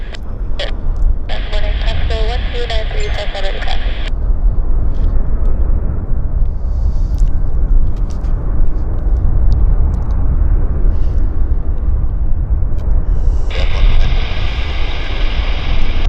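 An airliner, flight 103 arriving from Toronto, at Vancouver YVR airport gives a steady, heavy broadband roar throughout, with short bursts of crackly radio chatter near the start and the end.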